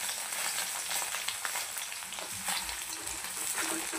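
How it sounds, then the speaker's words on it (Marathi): Paneer frying in hot oil until golden gives a steady, close hiss of sizzling with faint crackles throughout and no voices. "अशा पद्धतीने बघा छानसे असे गोल्डन आपल्याला फ्राय करून घ्यायचे"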